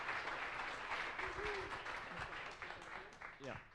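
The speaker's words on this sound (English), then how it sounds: "a big round of applause again for Michael Preston" A bar crowd at an Astronomy on Tap event in San Antonio gives a round of applause after a talk, dense clapping throughout with voices and a brief whoop mixed in.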